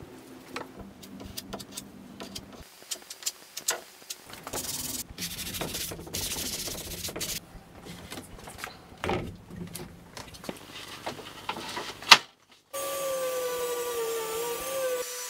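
Hand sanding a filled wooden picket gate: close, rasping strokes in irregular bursts, loud and continuous for most of the stretch, then a brief pause before a steadier hum.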